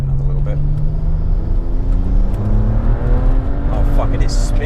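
A BMW 335i with an N54 engine and hybrid turbo pulls hard in third gear, its engine note rising steadily and loud under excited talk from people inside the car.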